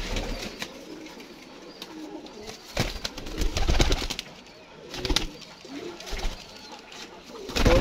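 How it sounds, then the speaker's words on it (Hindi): Pigeons on a rooftop coo softly in a flock of about fifteen birds, low murmuring calls mixed with wing flutters and handling noises, moderately near. "15 कबूतर है और अच्छे हैं"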